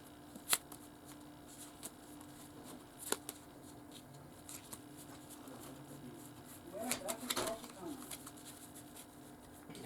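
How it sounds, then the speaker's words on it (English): Playing cards are shuffled with soft riffling and crisp flicks and snaps, near and fairly quiet, with faint voices in the background. "Now I said I'll shuffle them even more."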